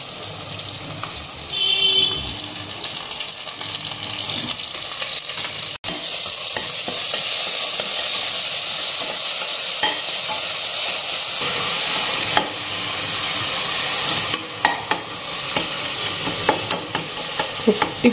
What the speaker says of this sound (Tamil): வெங்காயம், வெங்காயம், தக்காளி, இஞ்சி பூண்டு பேஸ்ட்டு, புதினா எல்லாம் நல்லா வதங்கி இந்த எண்ணெய் தனியாக வதங்கினது தனியாக ஆகிடுச்சு